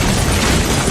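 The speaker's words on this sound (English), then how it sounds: "Causing a massive explosion." Nitroglycerin tanks blow up in a massive explosion, a loud dense roaring boom that fills the whole moment without any break.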